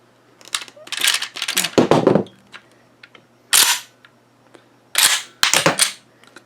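A Remington 11-48 20 gauge shotgun's action is worked by hand, giving loud, close metallic clacks and sliding clatters in separate bursts, with some brief speech between them.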